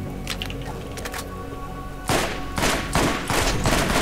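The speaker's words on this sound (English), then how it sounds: "Some kind of assault rifle." A high fire-rate assault rifle fires in the video game Borderlands. Loud, rapid bursts of gunfire start partway through and repeat in close clusters.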